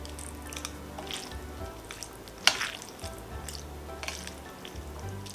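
Pasta is tossed in tomato sauce, making soft wet stirring and squelching with occasional light clinks and one sharper knock midway, under a low steady background hum.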